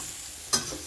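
Food frying in a pan with a low steady sizzle and one short scrape of stirring partway through, close and quiet, no voices.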